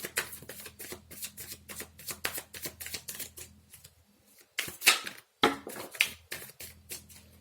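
Tarot cards are shuffled in quick, rhythmic riffling bursts, close and clear, with a short pause before the shuffling resumes.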